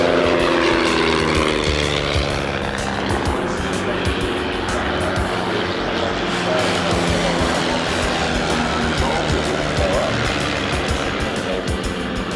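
A loud Ryan monoplane drones past nearby, its engine pitch sweeping downward as it passes, then a steady rough roar continues.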